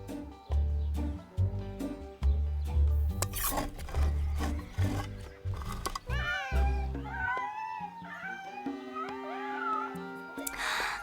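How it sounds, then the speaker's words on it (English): Deep rhythmic thumping gives way to a chorus of high, wavering kitten mews, several overlapping at once, close and fairly loud. "Just look at all of those kittens!"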